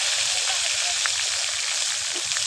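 A spoonful of cumin seeds crackling and spluttering in hot oil in a home kitchen, a steady bright sizzle with scattered small pops, close and continuous.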